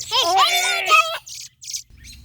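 A baby bird chirps in a rainy outdoor setting, a bright series of close, high chirps and tweets in the first second, followed by a few shorter faint calls after a pause.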